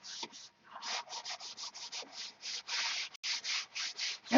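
Sandpaper rubs back and forth over a surface in repeated short strokes, a fairly close, steady rasping rhythm with brief pauses between passes and no talking.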